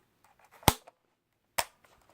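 A point-and-shoot camera fires twice with its flash on, each shot a single sharp, close click spaced about a second apart, against near silence.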